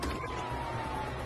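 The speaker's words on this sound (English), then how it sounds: "Sirens! Fuck the cops!" A police siren wails steadily at moderate volume in Grand Theft Auto V, blended with a dense rumble of game noise and a faint voice underneath.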